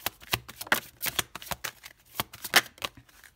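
Tarot cards being laid down and handled on a surface, a close series of crisp slaps, flicks and soft shuffling rustles in an uneven rhythm, with no talking.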